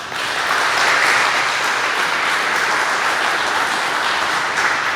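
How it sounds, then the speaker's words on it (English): A crowd gives sustained, even applause for bus stop design teams at a design challenge event, dense clapping holding steady at full level throughout. "Let's have another round of applause for the teams."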